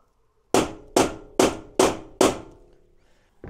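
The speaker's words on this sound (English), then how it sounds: "So smash it with the hammer." Five heavy metallic hammer blows on a steel door in a steady rhythm, each ringing out briefly, close and loud, followed by a fainter sixth hit.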